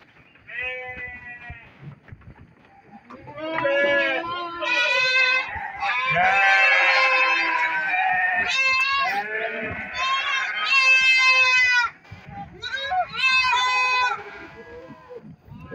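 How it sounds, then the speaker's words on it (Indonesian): Sheep bleat repeatedly and close by, loud overlapping calls from several animals in a goat and sheep pen, with brief quieter gaps between bursts. "Sebelah sini domba ini ya."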